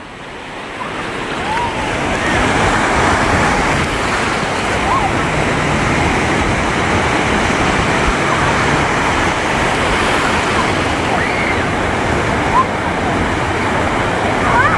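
Waves breaking on a beach during a Rangpanchami celebration, a continuous loud roar of surf that stays steady throughout, with faint voices in the background.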